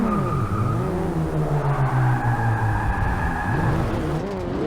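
A Ferrari 365 GTB4 races around the Le Mans track, its engine droning loud and close with rising and falling revs as tyres squeal through the corners.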